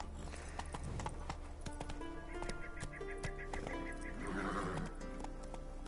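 Horse hooves clip-clop at a gallop with repeated neighs and whinnies in a video game, steady hoofbeats running throughout with a louder whinny near the end.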